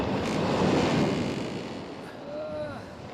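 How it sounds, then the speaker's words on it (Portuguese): A violent storm at sea drives waves that flood a boat, heard as a loud, rushing roar of wind and surf that swells and then eases slightly, with a faint creak near the end. "De repente, uma violenta tempestade abateu-se sobre o mar, de forma que as ondas inundavam o barco."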